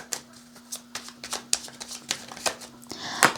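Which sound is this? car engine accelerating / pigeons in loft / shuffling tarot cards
shuffling tarot cards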